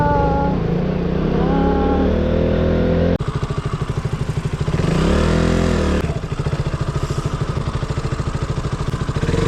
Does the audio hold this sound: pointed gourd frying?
no